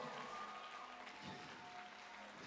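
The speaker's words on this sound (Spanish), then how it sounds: "Dale un aplauso grande a esta banda maravillosa." Faint applause rises for a worship band at the close of a church concert, a soft, even wash of clapping heard from some distance with a faint held tone underneath.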